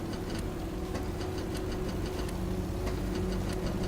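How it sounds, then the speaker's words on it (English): Blohm & Voss BV 238 flying boat engines starting up in Stormworks, a steady low droning rumble with faint ticking clatter, constant and loud throughout. "we can go ahead and start the engines here"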